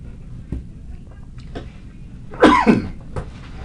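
A single person coughs a few times, one louder harsh cough in the middle, close by and otherwise quiet.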